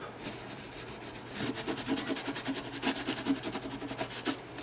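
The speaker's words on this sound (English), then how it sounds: "So just with that kitchen towel, I'm just going to press down and just rub over the top." A kitchen towel pressed down and rubbed over wet watercolour paper during card making: soft, rhythmic scrubbing strokes with a papery rasp that start quietly and grow louder and more regular.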